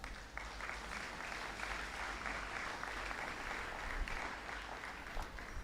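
Sustained applause from a graduation service audience at a boys' high school valedictory ceremony, a dense, even wash of many hands clapping steadily with no talk over it.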